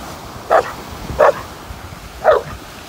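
A dog barks three times, short single barks spaced apart over a faint background hiss, moderately close.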